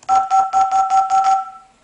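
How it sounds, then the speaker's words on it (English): A 2GIG security control panel chimes six times in quick succession, each bright electronic two-tone pulse clear and close, the last one ringing out and fading. "the bottom will adjust the volume of your chimes"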